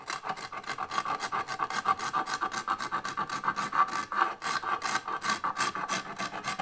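A curved metal scraper rasps over old woodwork on a hundred-year-old Norwegian window in quick, even back-and-forth strokes, a steady close scratching rhythm with no talk.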